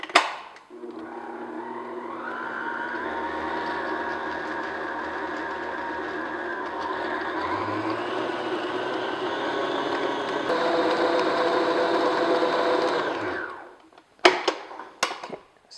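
An electric mixer beats mascarpone frosting with sugar, running a steady whirring motor hum for about thirteen seconds, rising slightly in pitch partway through, then cutting off, followed by a few clattering knocks.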